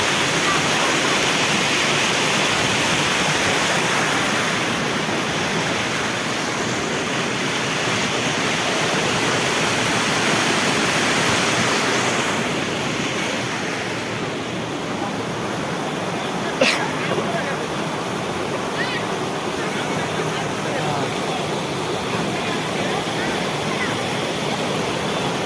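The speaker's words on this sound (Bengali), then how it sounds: "তাও এই জায়গাটার প্রচুর স্রোত আছে।" Strong river current at Shiv Khola near Siliguri, a loud, continuous rushing wash of water filling the whole stretch evenly, close by and steady.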